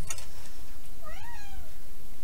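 A cat gives one rising-and-falling meow about midway, clear and fairly close, over a steady room hum with a few faint earlier sounds.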